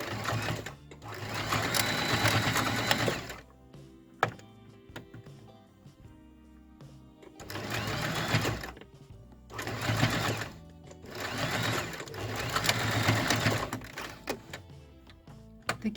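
A sewing machine stitches the ear of a fabric elephant toy head, running in several loud, steady bursts separated by short pauses, with no talking.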